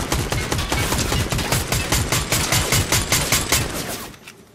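Rapid automatic gunfire in a Fortnite match on PS5 rattles in a dense, steady stream of close, loud shots for about four seconds, then cuts off abruptly into near quiet.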